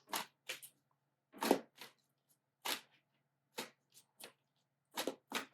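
Tarot cards, Game of Thrones themed, shuffled by hand in a quiet room: a series of short, crisp riffles and slaps spaced irregularly, with no talking.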